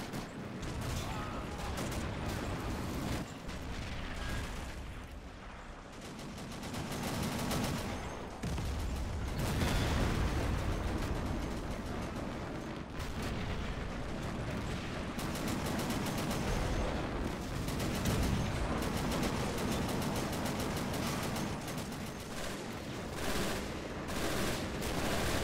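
Dense, continuous gunfire and artillery rumble fill a World War II Battle of the Bulge defense in the game Men of War: Assault Squad 2, with bullet whizzes mixed in at a moderate level throughout.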